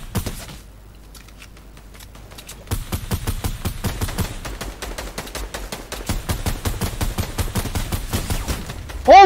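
Rapid automatic gunfire in the shooter game Fortnite, quieter bursts at first, then a long dense stream of fast shots continuing to the end, steady and fairly loud.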